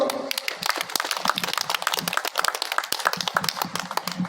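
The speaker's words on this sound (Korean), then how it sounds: "힘찬 박수 부탁드립니다" Audience applause at a church memorial worship service, many hands clapping in a brisk, sharp patter that holds steady and fairly loud for several seconds with no talk over it.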